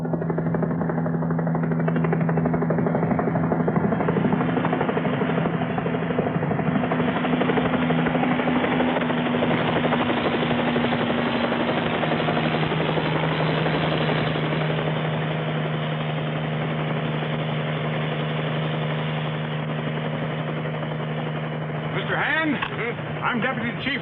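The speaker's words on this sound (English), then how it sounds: "Helicopter brought Hand and Rattigan to an isolated sidetrack in the Los Angeles freight yards" Loud, steady helicopter rotor and engine drone, close and continuous throughout, setting down at an isolated sidetrack in a Los Angeles freight yard, with a voice speaking over it.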